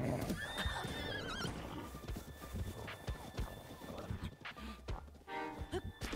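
A horse in the video game Zelda: Breath of the Wild whinnies with a rising, wavering call near the start, followed by rhythmic hoof clip-clops and game noise, and a brief second whinny near the end.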